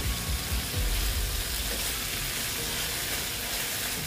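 Pointed gourd cooks with chhena in a pan, giving a steady, dense sizzle with occasional stirring scrapes, close and continuous throughout.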